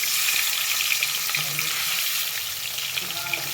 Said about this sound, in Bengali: তেলটা তো গরম হয়ে গেছে, মাছটা ভেজে নিই।